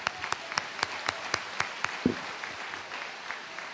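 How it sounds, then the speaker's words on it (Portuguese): Scattered, light clapping from a small group at a church sermon, sharp individual claps spaced irregularly at a moderate distance, fairly quiet overall. "Palmas para a mídia"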